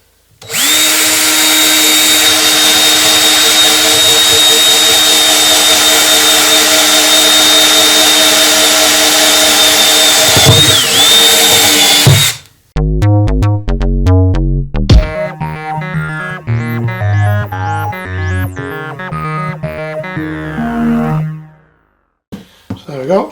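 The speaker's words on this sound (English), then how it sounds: "I've just got a Forstner type bit on here, which hopefully will work quite nicely there. It's 15mm. I'm just going to put 4 holes in the bottom here." A power drill with a 15mm Forstner bit bores four holes in wood, first as a steady loud whine for about twelve seconds, then as shorter broken bursts of drilling.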